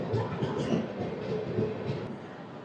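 An AC double decker express train, the 22707 Visakhapatnam–Tirupati service, rolling past at a station with a steady, broadband rumble and faint rhythmic rail clatter throughout.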